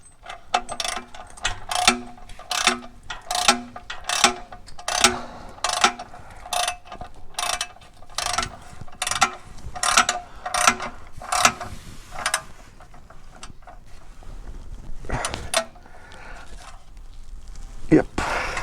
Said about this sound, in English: I'll torque this one up here.